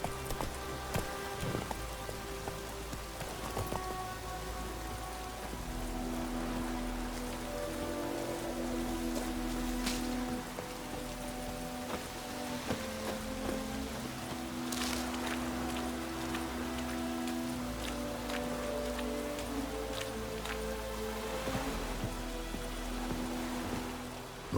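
Steady rain pours in The Witcher 3 video game, a continuous soft hiss of falling water heard over a low background hum, with occasional faint clicks and a few tonal notes beneath.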